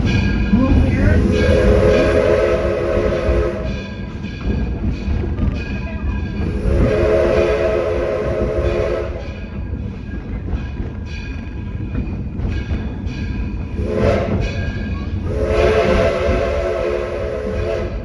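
A passing train sounds its whistle in repeated long, loud blasts over a constant heavy rumble of rail cars, with people talking underneath.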